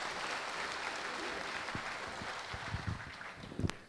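Audience applause during a speech at a gathering, faint and distant clapping from a crowd, with a few louder claps near the end.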